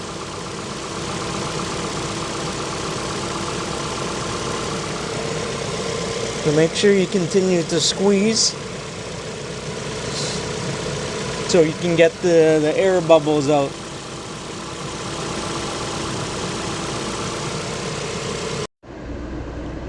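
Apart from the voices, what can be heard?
2012 Ford Fusion 2.5 engine idling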